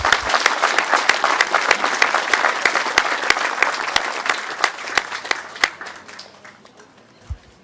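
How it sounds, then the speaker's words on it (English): A crowd applauds loudly and steadily, sharp individual claps standing out, before the clapping thins and fades toward the end. "Can I have another round of applause,"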